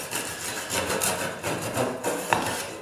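A hand saw cuts a kerf in wood for a furniture-leg joint, giving a series of close, rasping back-and-forth strokes in a steady rhythm.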